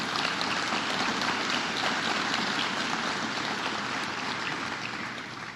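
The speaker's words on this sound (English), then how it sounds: "One more round of applause." An audience at a state funding announcement for a North Shore project in Canandaigua gives a round of applause, a dense, even patter of clapping that fades slightly toward the end.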